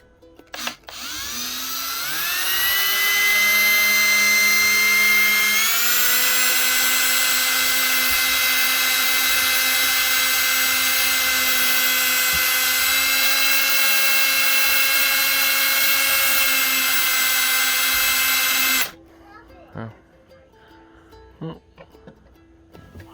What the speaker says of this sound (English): we're gonna drill new holes